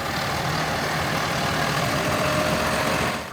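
A big sanitation truck's engine runs at a steady idle close by: a continuous, even rumble with broad mechanical noise and no pauses. No one talks.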